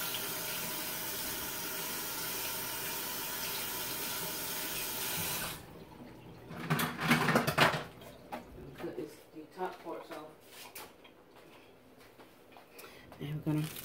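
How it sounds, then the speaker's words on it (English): A kitchen tap runs steadily for several seconds, then shuts off, followed by close handling clatter and splashes as green onions are rinsed. "I'm gonna wash them off right quick"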